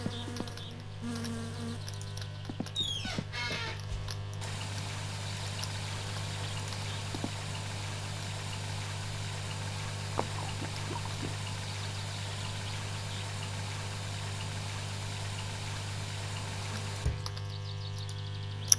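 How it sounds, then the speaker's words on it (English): Water pours from a bucket in the My Summer Car video game, a long steady splashing stream under a constant low hum, with faint insect-like buzzing and a few small knocks. "Oh yeah, the water bucket."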